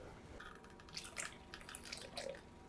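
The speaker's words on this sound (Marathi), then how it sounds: "पाणी घालते गरम पाणीच आहे हे" Hot water is poured onto cooked lentils for sambar in a faint, trickling splash with small drips and gurgles, close and soft.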